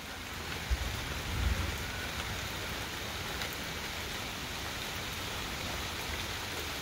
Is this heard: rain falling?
yes